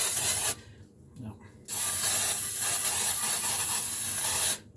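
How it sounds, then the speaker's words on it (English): Two long hissing blasts from a Baker's Joy baking spray can onto a pan, close up, separated by a short pause with faint rustling. "I'm using Baker's Joy to spray the pan"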